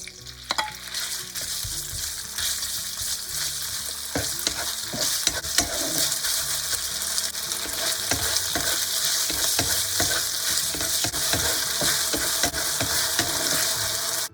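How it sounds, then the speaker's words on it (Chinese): Beef strips stir-fried in a wok over high heat, a loud steady sizzle with repeated scraping and tossing strokes of the spatula, close up and continuous throughout. "加入牛肉丝炒30秒。"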